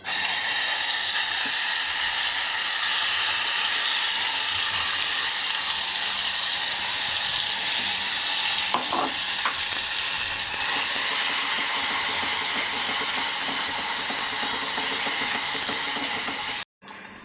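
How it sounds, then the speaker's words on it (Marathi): Ground masala paste fries in hot oil in a wok for an aloo bhaji, giving a steady, loud sizzle that hisses without a break almost to the end, with faint scraping stirs mixed in. "मसाला आपला आता छान भाजत आलेला आहे"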